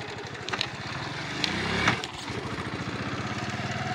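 A motorbike putters steadily along a village road through Pakistani fields, its engine pulsing throughout, with a louder bump midway as it rolls over a speed breaker, and no talking.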